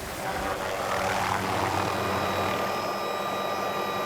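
A continuous whirring drone of a helicopter passing overhead, steady and fairly loud with a faint rising whine.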